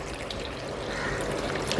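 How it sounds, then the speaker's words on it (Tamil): Water poured steadily into a bowl of maida flour dough mix seasoned with salt, sesame and ajwain, a continuous soft trickling and splashing close by. "இப்போ கொஞ்சம் தண்ணி ஊற்றிக்கலாம் தண்ணி ஊற்றி பிசையலாம்"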